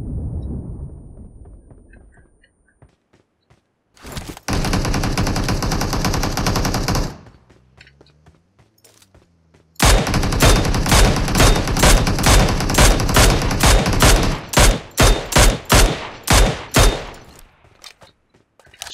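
In the PUBG Mobile game, loud automatic gunfire fires in two long sustained bursts, then a run of rapid shots that break into shorter volleys, with quieter gaps between the bursts and no talking.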